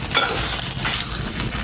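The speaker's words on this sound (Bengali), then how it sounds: "রুটিটা গরম দিচ্ছি একটু তেল দিয়ে" Leftover roti heats in a little oil in a pan with a continuous close sizzle and soft scraping from stirring, brief and steady, no voices.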